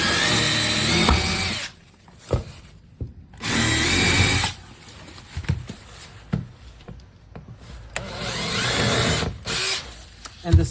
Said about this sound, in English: We're gonna pre-drill our holes on the sweep.